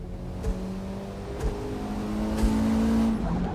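A race car in Forza Motorsport laps a short Sprint Circuit version of the Nürburgring GP, its steady engine drone rising in pitch, with brief thuds roughly once a second and no talking.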